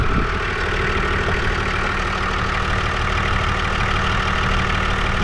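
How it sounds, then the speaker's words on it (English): A car engine idles steadily with a low rumbling drone and a faint irregular ticking mixed in, continuous and fairly close, with no voices. "I'm still trying to chase down this engine noise that we've got"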